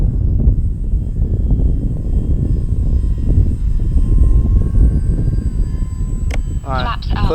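An Arrows RC T-28 1100mm model airplane with landing flaps down makes a slow, low pass, its steady engine drone continuous and fairly loud, with a voice speaking briefly near the end.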